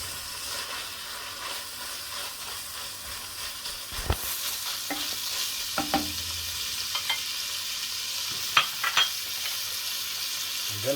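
Fried beef mince with chopped onion and jalapeno being stirred in a pan, with a constant sizzle and scattered spatula scrapes and knocks.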